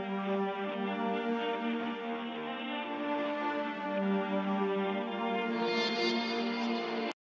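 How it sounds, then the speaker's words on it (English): An ambient string section is heard with granular synthesis layered on top and a couple of small reversed swells, sustained, reverberant and fairly quiet, in a dark ambient hip-hop production style; no talking. "It's basically just like a string section that has some kind of like granular synthesis on top, just has a couple little reverses in there."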